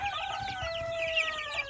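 Chickens cluck and chirp steadily in a homestead coop, with high peeping from young leghorn chicks woven through the fowl chatter, close and continuous.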